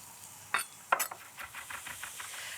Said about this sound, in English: with a sharp knife, I'm going to run through the garlic a few times just so it's finely chopped